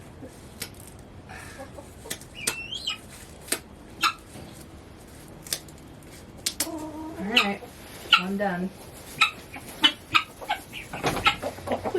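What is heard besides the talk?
mother chicken clucking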